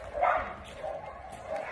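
Dogs in a storm-damaged kennel give short, anxious barks and yips, with a few whimpers, close by and moderately loud, in uneven bursts through the short stretch.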